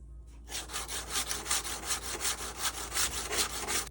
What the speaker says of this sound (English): I'm going to have to grind this thing down until I get rid of that bevel.